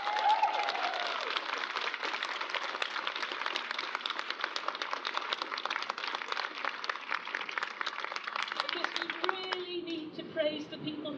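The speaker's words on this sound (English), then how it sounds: "I would like a round of applause for the journal Scottish Affairs" Outdoor crowd at Speakers' Corner on The Mound in Edinburgh claps in a sustained round, a thin, distant-sounding patter of hands fading toward the end as a voice starts up.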